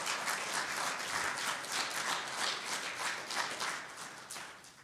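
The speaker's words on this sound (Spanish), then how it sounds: "¿Puedes darle una ofrenda de palmas a Dios por su palabra?" A Spanish-speaking church congregation gives an offering of applause to God after the sermon, sustained dense clapping from many hands, close and even throughout with no voices over it.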